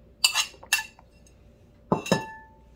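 Potatoes dropped into an open-mouthed bowl for stuffing give two pairs of sharp clinks against the bowl, close and clear, with quiet pauses between.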